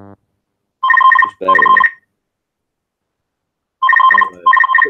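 A phone ringtone plays in short bursts of repeated bright electronic tones, two pairs of rings separated by a silent gap, loud and close, with a brief spoken remark between the rings.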